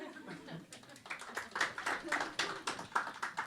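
Studio audience of a French podcast recording applauds on cue, a dense patter of clapping swelling partway through and staying steady, with faint laughter mixed in.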